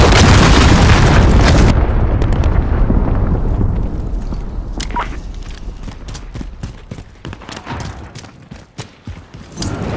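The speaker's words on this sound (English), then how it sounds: "Allied cruise missile launched." A cruise missile explosion in Call of Duty: Modern Warfare opens with a loud, roaring blast and rumble, then decays into scattered crackles, debris clatter and sharp pops over the following seconds.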